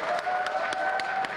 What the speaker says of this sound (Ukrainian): Тож давайте його привітаємо бурхливими оплесками